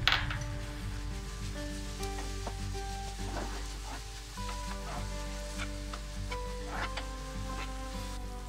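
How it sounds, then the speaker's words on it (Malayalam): Grated coconut and ground cardamom are stirred into jaggery syrup in a pan for ragi ada, giving soft scraping and stirring strokes over a low sizzle and a steady background hum, quiet and close. "അതിലേക്ക് നമുക്ക് ഈ നാളികേരം ചിരവിയതും കൂടി ഇട്ടിട്ട് നമുക്കത് മിക്സ് ചെയ്യാം"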